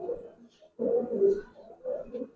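A Giribaz pigeon coos in three or four low, throaty rolling phrases close by, separated by short gaps, with no talk over it.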